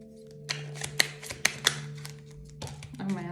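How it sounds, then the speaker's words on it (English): Deck of cards being shuffled by hand, a few sharp riffles and taps close up over a low hum, quiet and brief. "Oh man, they're still really hard to shuffle."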